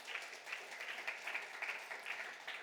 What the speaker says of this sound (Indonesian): Tepuk tangan untuk Tuhanmu.